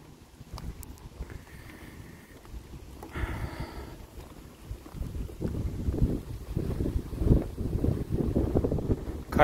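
Steady wind rumbles and buffets against the microphone at a pier in Florida, growing stronger toward the end, with faint water and boat sounds in the background.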